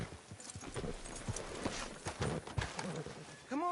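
Horse hooves clip-clop at a slow walk on a town street in Red Dead Redemption 2, muffled and fairly quiet under a faint background murmur, ending with a short whinny-like sound.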